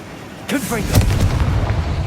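Confringo fire spell from Hogwarts Legacy: a sudden blasting burst with a whooshing flare followed by a second louder explosive impact, reverberant and rumbling as it fades.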